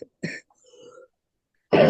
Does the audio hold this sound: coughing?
yes